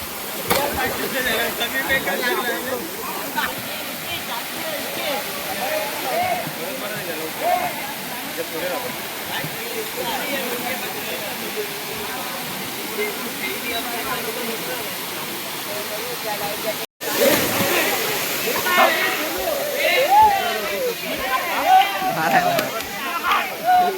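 Kalmandavi waterfall roars as a dense, continuous rush of falling water heard up close. Voices chatter over it, and the roar cuts out for an instant near the end before resuming.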